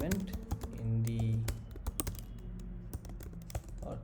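Fast clicky keystrokes on a computer keyboard while typing Java code, an uneven patter of close taps in short bursts with a soft murmur underneath.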